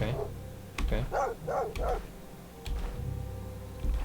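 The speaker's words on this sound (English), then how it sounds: "That's a dog right there." Dogs in the fantasy role-playing video game Stoneshard give a few short barks, mixed with game sounds while someone talks over them.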